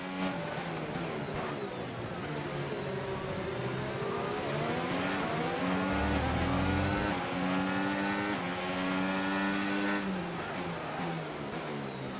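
Formula 1 race car engine from the F1 25 video game at the Bahrain Grand Prix, running very hot, a steady loud high-pitched whine rising and falling through gear changes as the car laps continuously.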